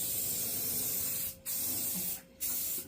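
A final coat of primer is sprayed onto the door of a 1997 Mustang GT, producing a loud continuous spray hiss broken by two brief pauses, close by.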